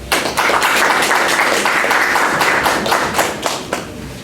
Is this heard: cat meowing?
no